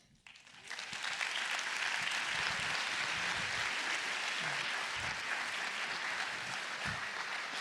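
An audience applauds at the close of a talk on artificial intelligence and design, a dense, sustained wash of clapping that swells in within the first second and holds steady and loud throughout, with no voice over it.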